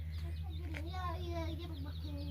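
Backyard chickens at a small poultry-raising home give a few close clucks and short calls over a low background hum, with no clear talk.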